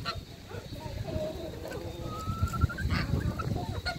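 Chickens and roosters in a backyard poultry yard give faint scattered clucks and short calls against a quiet outdoor background.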